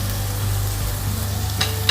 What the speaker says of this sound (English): you can hear the sizzling right now.